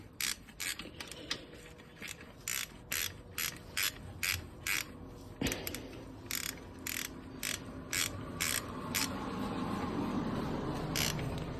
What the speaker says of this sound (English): I'm gonna go ahead and put the ratchet back up on here, and we're just gonna tighten it